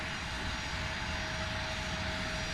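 Steady, loud roar of a CRJ 900 regional jet's engines during Delta Connection operations, a continuous broadband rush with a faint high whine, unbroken and close throughout.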